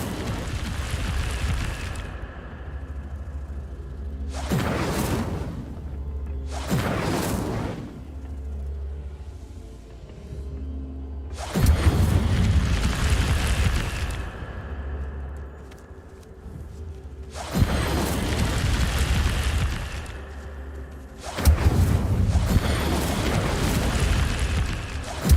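Fiery Incendio spell blasts from the Hogwarts Legacy video game: a series of about six loud, roaring explosive bursts, each lasting a second or several, separated by quieter rumbling gaps, with no talk.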